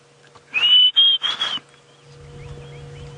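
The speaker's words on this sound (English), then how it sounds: "I can hear there are many Diederik's cuckoos around here." A Diederik's cuckoo gives a loud, clear whistled call of several rising notes repeated in quick bursts, outdoors on an early-morning safari drive, with quiet background hum afterward.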